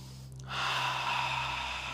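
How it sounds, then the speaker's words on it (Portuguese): Deep breathing from a group led through a guided exercise, a brief sharp intake followed by a sustained, loud, breathy rush of air held for over a second, with no talking over it. "Deixa eu ouvir sua respiração, todo mundo junto."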